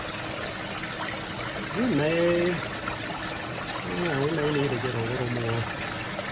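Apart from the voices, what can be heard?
water cascading through a gold sluice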